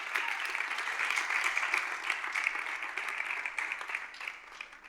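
Steady audience applause from a studio crowd on a French dating show, a sustained wash of clapping lasting several seconds and fading slightly at the end.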